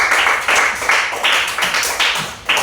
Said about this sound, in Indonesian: Tepuk tangan untuk Rio.